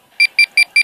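Digital wristwatch alarm beeping four times in a steady rhythm, sharp bright electronic tones close up with no talk.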